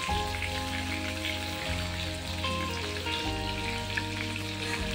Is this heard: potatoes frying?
yes